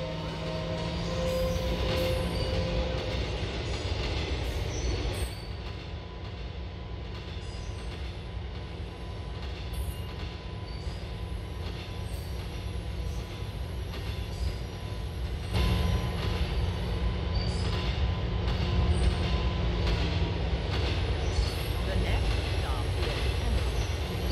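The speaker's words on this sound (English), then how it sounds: "This is a J train." Subway train running on the J line in GTA IV, a steady loud rumble of wheels and car noise throughout, with voices talking over it.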